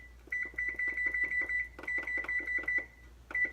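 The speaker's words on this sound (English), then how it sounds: "So I will set my timer" A kitchen timer being set beeps in quick repeated bursts, sharp electronic bleeps in irregular clusters as the buttons are pressed, fairly close and clear with no talking.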